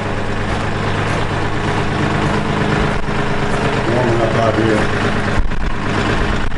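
A heavy diesel engine of a Kioti tractor rumbles steadily at idle nearby, loud and continuous with a low throbbing tone.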